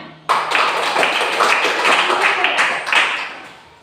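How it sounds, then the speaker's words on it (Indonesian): A class of pupils claps their hands during a lesson on weather, a steady rhythmic patter of many hands that runs for a few seconds before fading. "Oke, tepuk tangan"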